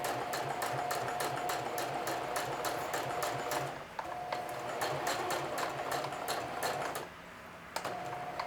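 Sewing machine stitching a watch pocket, running in rapid steady bursts of needle clatter with a humming motor, pausing briefly near four and seven seconds before resuming close by.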